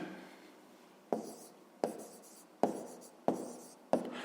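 A pen writes an answer on paper for a fifth-grade maths exercise, five short firm strokes spaced about a second apart, each with a quick fade, close and quiet with no talking.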